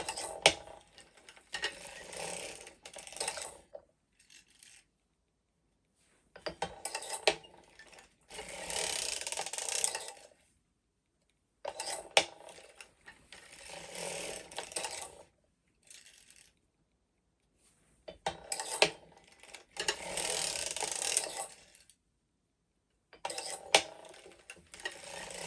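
A circular sock knitting machine cranks in repeated bursts of clicking, ratcheting mechanical noise separated by short pauses, close and fairly quiet.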